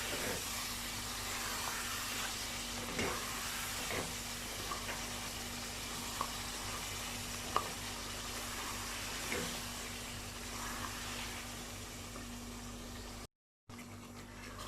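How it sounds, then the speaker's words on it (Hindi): Afghani gosht, goat meat, frying with yogurt in a pan without red chili: a steady, soft, hissing sizzle with faint occasional stirring taps, heard close up and alone, with a short silent break near the end. "इसको अब हम भूनेंगे दही डाल के"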